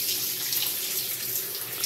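Shower water running in a home bathroom with low pressure, rinsing decorative stone after cleaning; a steady close hiss of spray continues throughout with no talk.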